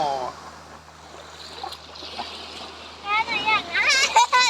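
Seawater washing sand up onto the shore at Manao Bay in Prachuap Khiri Khan, Thailand, a soft steady wash and splash beneath people talking, including a voice, with the voices growing louder near the end.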